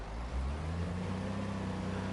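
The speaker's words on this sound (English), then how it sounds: "But you hear that engine rev up." Train engine in Train Sim World 2 revs up with a deep, rising low-pitched drone, a steady mechanical rumble building and holding close and fairly loud.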